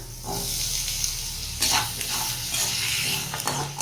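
Tomatoes sautéing in a pan for paneer butter masala, a steady close frying sizzle with brief bursts of stirring and spatula scraping, no talking.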